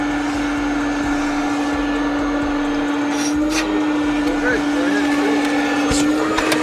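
A loud, steady vacuum whine drones throughout while cleaning the dirty interior of a 2007 Ford Focus, with a constant hum and occasional rattles as debris is sucked up, while voices talk faintly underneath.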